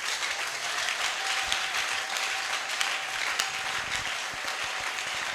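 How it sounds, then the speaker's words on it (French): Sustained applause from a church congregation, a dense continuous wash of clapping that holds steady throughout, with no voices above it. "Est-ce que je peux voir ton acclamation?"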